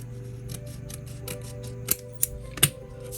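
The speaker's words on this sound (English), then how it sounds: "Trim it up a little bit." Scissors trim a paper model with three or four crisp, close snips spaced roughly a third of a second apart over a quiet background hum.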